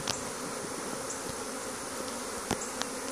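A steady, dense hum of a swarm of honey bees in a tree fills the air, with occasional individual insects zipping close past.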